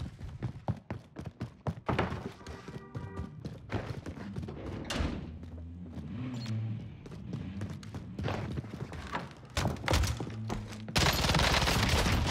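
Gunfire and shotgun blasts ring out in a Call of Duty multiplayer match, with rapid bursts of sharp shots, scattered thuds and a dense volley toward the end, fairly loud throughout.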